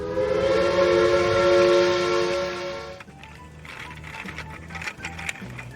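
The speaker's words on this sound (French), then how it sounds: "Le train va pouvoir enfin démarrer." A Duplo toy train sounds a loud sustained whistle-like tone, then its small motor rumbles along with a rhythmic clicking chug as it runs.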